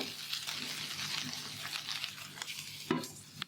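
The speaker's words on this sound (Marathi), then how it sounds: "हे 2 मिनिट आपण चांगली भेंडीला परतून घेतलेलं आहे." Okra fries in a pan, a close hiss of sizzling with soft stirring scrapes and a sharp clatter near the end, fairly quiet overall.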